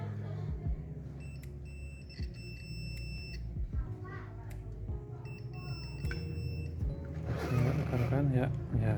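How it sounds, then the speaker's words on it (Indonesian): A multimeter in continuity buzzer mode gives two steady high-pitched beeps, each lasting over a second, while probing a circuit on an LG 65UK6300PTE TV under repair. Someone talks throughout, and there are occasional clicks and handling noises. "Jadi avometer di mode buzzer ya"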